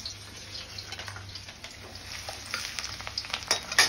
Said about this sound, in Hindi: तेल में लहसुन